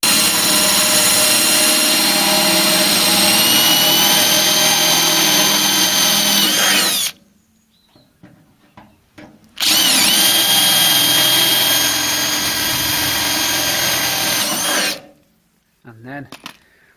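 A power drill whirs loudly for about seven seconds drilling out screws on a Ford Cortina Mk3, pauses with small clatters, then runs again for several seconds before stopping.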